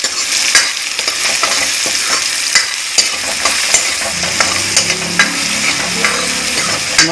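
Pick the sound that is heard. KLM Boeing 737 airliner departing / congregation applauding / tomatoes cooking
tomatoes cooking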